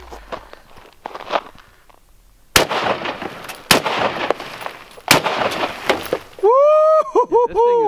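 Real firearms fired outdoors during a test of several guns: a few sharp, loud reports a second or so apart, each followed by a noisy ringing tail, then people talking excitedly over the fading echoes.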